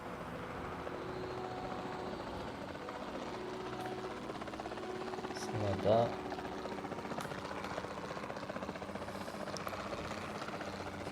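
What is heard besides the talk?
helicopter flying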